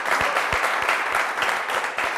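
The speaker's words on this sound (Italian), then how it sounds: "facciamo un applauso" A television quiz show studio audience applauds a returning contestant, with dense, even clapping from many hands throughout a couple of seconds, moderately loud and without talk.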